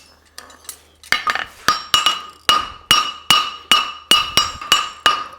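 A hammer forges a French hind horseshoe on an anvil, ringing metallic strikes that start sparse and settle into a steady, evenly spaced rhythm of about a dozen loud, close blows.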